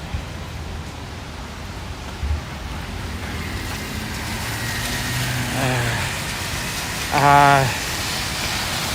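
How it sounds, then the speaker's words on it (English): Rain falls on a city street in Williamsburg, Brooklyn, a steady broadband hiss throughout, with brief voices and a passing vehicle rising near the end. "This rain is getting everywhere."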